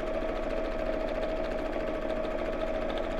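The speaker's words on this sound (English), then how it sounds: "So I'm now sewing about 1/8 of an inch from the edge." A sewing machine runs steadily for a few seconds, stitching about an eighth of an inch from the edge of a drawstring pyjama bag with contrast thread, a continuous even whir at moderate level with no talk.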